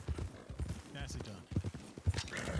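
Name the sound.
horse hooves clip-clopping in the video game RedM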